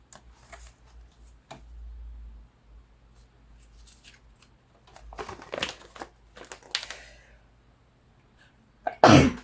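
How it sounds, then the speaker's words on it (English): A sharp, loud sneeze bursts out near the end after a stretch of quiet handling noises, soft taps and rustles close by. "I just sneeze everywhere."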